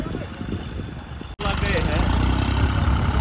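A John Deere 50 HP tractor engine starts and settles into a loud, steady running rumble after a brief gap, with people talking nearby over it.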